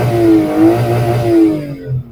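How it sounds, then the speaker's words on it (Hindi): A Suzuki Alto VXR with a 660cc engine revs close by, its drone rising and falling in a few smooth swells before dropping back toward idle. "इंजन का साउंड आप चेक कर लें,"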